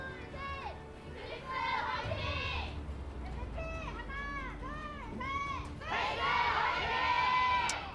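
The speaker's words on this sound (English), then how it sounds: "MVP fans cheering their hearts out" Esports fans at an Overwatch League match in Korea, cheering and shouting in waves across the arena, with the roar swelling near the end, under commentators' talk.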